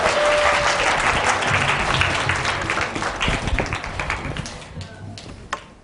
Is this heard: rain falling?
no